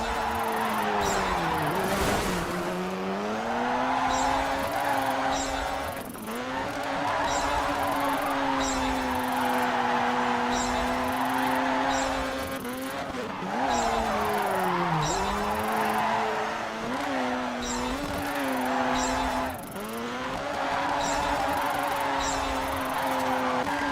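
Rally car in DiRT 3 gymkhana doing a figure-eight drift, engine revving loudly and continuously with pitch rising and falling through repeated slides, tire squeal mixed in, no talk.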